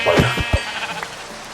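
Minecraft sheep letting out a few sharp bleats at the start, then fading into fainter clicks and thumps, close up with no one talking.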